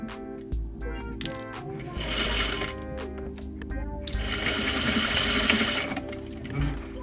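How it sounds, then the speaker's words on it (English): Close up, a sewing machine runs in fast, rattling bursts as it stitches a straight seam up to the centre front edge of a pair of trousers, with brief stops and clicks between runs. "Sew in a straight line to meet the center front edge of your pants."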